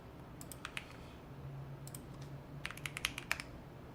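Fast typing on a computer keyboard during a TypeRacer game, bursts of rapid close key clicks in quick clusters with pauses between, over a low room hum.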